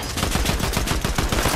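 An auto shotgun in Fortnite fires in a rapid, evenly spaced string of loud close blasts, about a dozen shots packed into a second and a half.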